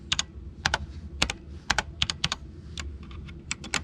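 Keys pressed on a Redragon K585 one-handed gaming keyboard: sharp, close mechanical clicks in quick pairs and short bursts, with brief pauses between, heard alone.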